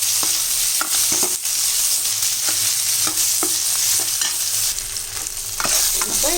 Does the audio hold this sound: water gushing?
no